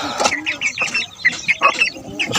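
Young two-month-old gamecocks cluck and chirp in short repeated bursts at close range, with bright, overlapping calls filling the space and no speech.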